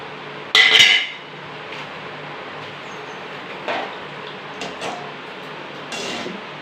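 Fried plantain pieces dropped into a pot of gravy, with a sharp metallic clatter near the start, then a few softer clinks and scrapes of pot and spoon.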